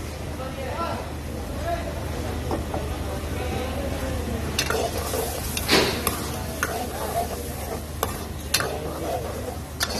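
Yogurt stirred into chicken sizzling in a pan for restaurant-style chicken makhni handi, with a constant sizzle, scraping spoon strokes and a few sharp clanks, while a person talks over it.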